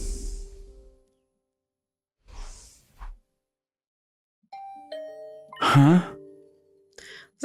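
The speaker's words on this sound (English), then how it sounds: "Is that my doorbell?" A doorbell in the video game The Hundred Line: Last Defense Academy chimes twice in clear descending tones, followed by a brief musical sting, with soft breathy sighing sounds before it and no talk.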